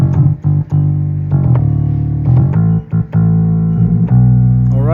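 A worship keyboard plays left-hand bass on a vintage round electric piano sound, with low rounded notes in short phrases and brief gaps between them. The playing is clear and alone, with no voices.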